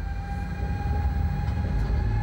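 Multi-system Class 189 electric locomotive hauling a train through the Elbe valley, a steady close rumble with a sustained whining tone, continuous and loud throughout with no pauses.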